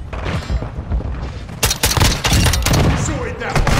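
Heavy gunfire in Call of Duty Modern Warfare 2, loud overlapping bursts and sharp shots in quick succession, intensifying midway, with radio-style voice lines mixed in.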